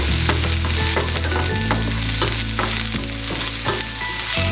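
Curry leaves sautéing in hot oil for idli, a steady loud sizzle and crackle with scraping stir strokes throughout, no talking.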